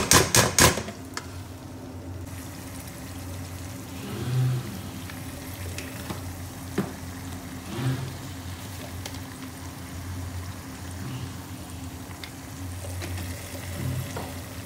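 Masala and tomatoes frying in a pan, a low continuous sizzle with occasional clanks and taps of a utensil, plus a sharp burst of knocks at the start.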